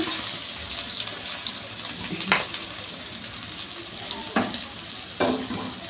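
Onions hit hot oil in a pan while chicken biryani is being cooked, and a steady close sizzle is heard with a few sharper crackles and spatters rising above it.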